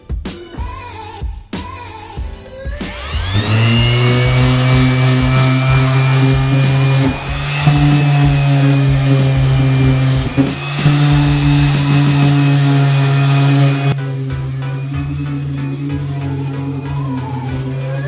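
Power sander working body filler on a custom car diffuser, a loud steady tonal whine that spins up after a few seconds and runs continuously, close by, with no talking.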